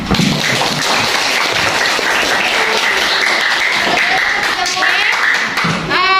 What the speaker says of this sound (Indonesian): Ayo kita bareng-bareng tepuk tangan.